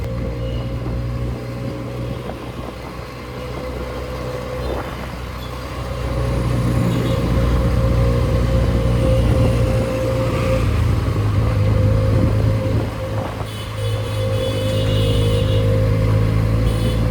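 A Benelli 300 motorcycle with a recently drained battery runs steadily at idle, then the engine swells louder as the bike rides off, a continuous close drone throughout.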